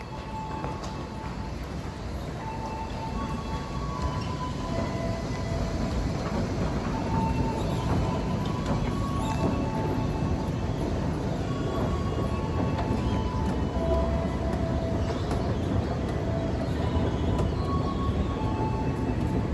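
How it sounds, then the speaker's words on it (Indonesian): Steady rumble of a commuter train rolling through a station, heard up close and continuous with faint tonal squeals and no talking. "Dari arah timur akan segera masuk komuter lain tujuan ke stasiun Manggarai"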